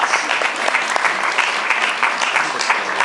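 A crowd at a Sundance Film Festival shorts program Q&A applauds loudly and steadily, many hands clapping in a dense, even patter across the whole stretch.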